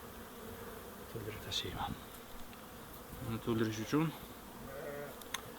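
Honeybees around their hives make a constant faint buzz as a steady background, while someone talks over it in a moderate voice.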